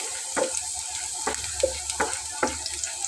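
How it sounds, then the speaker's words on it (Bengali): Chopped onion and dried red chilli fry in a pan with a soft, continuous sizzle, broken by a regular series of short scraping stirs, close and fairly quiet, with no talking. "তো শুকনো মরিচটা ভাজা হতে হতে পাশে আমি পেঁয়াজটাকে দিয়ে নিচ্ছি।"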